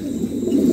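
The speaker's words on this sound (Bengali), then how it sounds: "মাশাআল্লাহ দেখার মতন একজোড়া কবুতর, খুবই চমৎকার।" A pair of pigeons giving a short, low, close coo.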